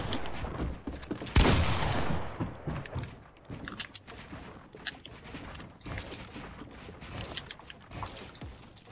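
Gunfire in the Fortnite video game: a loud, broad burst near the start, followed by a steady scatter of sharp, quick cracks at moderate distance, with game ambience underneath and no talking.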